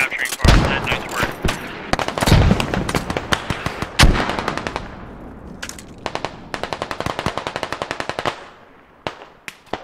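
Machine gun fire in a Squad 40 vs 40 firefight, with loud close bursts of rapid shots, some longer sustained strings and distant echoing reports.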